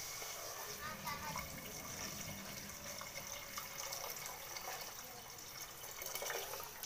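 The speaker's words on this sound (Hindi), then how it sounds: "और पानी ऐड कर रहा हूँ।" Water pours steadily into a cooking pot of oil while making Manipuri kangsoi, a boiled vegetable dish, giving a continuous close splashing and rushing sound for several seconds.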